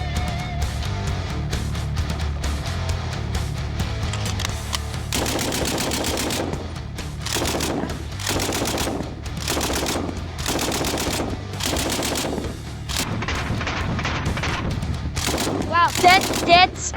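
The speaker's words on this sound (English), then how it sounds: "The Lewis machine gun." A World War I Lewis machine gun fires in a series of loud, rapid bursts separated by short pauses, each burst a fast, crackling string of shots.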